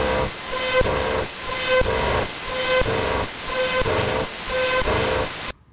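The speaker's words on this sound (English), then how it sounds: "What you were hearing was HF radar," An HF coastal radar signal comes through a shortwave radio receiver as a loud, buzzy, static-laden drone, pulsing in a regular rhythm roughly once per second, with no speech.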